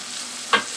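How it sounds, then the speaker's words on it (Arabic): A single quick scrape of a spoon stirring potatoes, meat and onion in a cooking pot, one short close swish over a low steady background. "واقلبها كويس عشان كلها كده تشرب من بعضها، تشرب من اللحمه والبطاطس"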